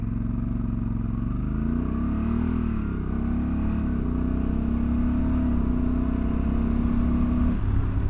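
A 2024 Honda Africa Twin in drive mode pulls away at a moderate pace, its engine rising in pitch, dropping on each automatic shift and climbing again, loud and close throughout with no talking.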